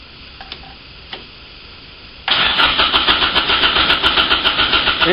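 An engine powered by a lithium-ion battery cranks over loudly with a fast, steady rhythmic churn after a couple of quiet seconds broken by faint clicks, with no speech.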